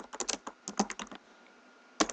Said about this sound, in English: So let's type in data manager